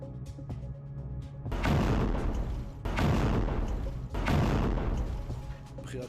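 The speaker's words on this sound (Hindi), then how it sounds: "धमाके सुने गए।" Explosions from Hezbollah rocket attacks over northern Israel: three heavy, loud booms a little over a second apart, each with a long rumbling decay, following a quieter stretch.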